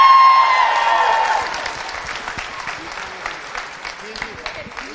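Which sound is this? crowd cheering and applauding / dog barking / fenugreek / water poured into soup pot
crowd cheering and applauding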